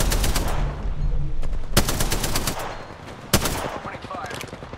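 Rapid gunfire in Apex Legends from a Spitfire, sharp bursts and single loud cracks rattling over several seconds amid game ambience, with an occasional voice underneath.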